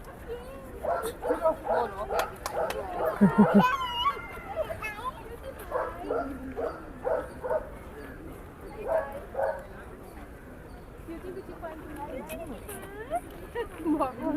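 A tiny dog yips and barks in short bursts at a pet gathering in Cubbon Park, Bengaluru, its calls rising over the steady chatter of people talking nearby.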